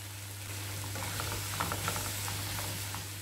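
Chicken pulao masala of chilli, turmeric, coriander and garam masala sautéed with onions in a pan, a soft steady sizzle with scattered scraping stirs over a low hum.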